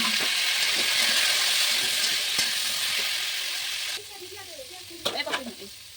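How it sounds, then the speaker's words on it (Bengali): Oil sizzles and hisses loudly as cauliflower fries in a pan, with a stirring clatter; the sizzle drops abruptly partway, then brief scraping sounds follow. "দেখুন আমি এই তেলের মধ্যে ফুলকপিগুলো ভেজে নিচ্ছি"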